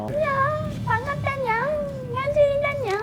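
A young woman imitates a cat's meow with her voice, giving several drawn-out, rising and falling meows one after another, close and clear against a faint room background.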